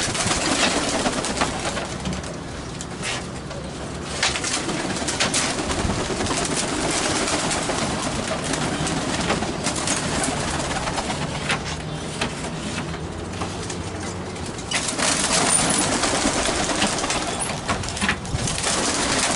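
Pigeons released from a racing loft, a steady flock murmur of cooing and rustling wings carrying through the whole stretch with dense broadband texture and no talk over it.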